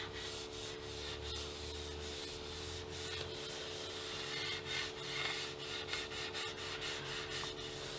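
Cloth rubbing Rubio Monocoat finish onto the wooden back and neck of a guitar, a soft continuous scrubbing with rhythmic strokes over a low steady hum, quiet and close.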